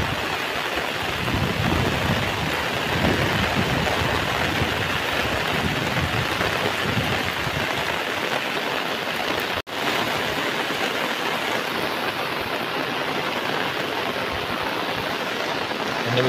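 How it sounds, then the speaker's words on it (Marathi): A heavy monsoon downpour falls across the Konkan countryside in a steady, loud, full-band roar that holds for the whole stretch, broken by a single sharp click midway, with the low rumble thinning toward the end. "आणि मित्रांनो कोकणात आता मुसळधार पाऊस पडायला सुरुवात झाली"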